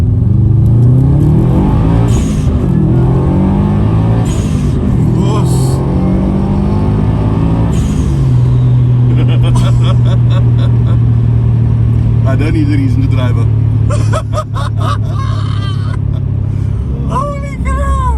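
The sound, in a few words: Subaru WRX STi accelerating in first gear, exhaust rumble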